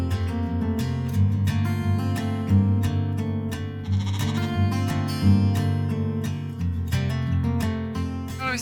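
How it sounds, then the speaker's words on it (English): Orphan lambs on a sheep farm bleat again and again in a steady, overlapping chorus, loud and close, with no talk over them. "we created this for our orphan lambs from all the sheep farms"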